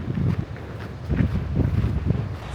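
Gusty wind at a beach in Esperance, Western Australia, buffets the microphone with a continuous low rumble that swells and dips, with no voices.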